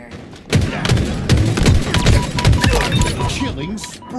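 Halo Infinite gunfire rattles in a continuous hail of rapid shots with heavy thumps, loud and close, while game announcer voices and other speech run over it.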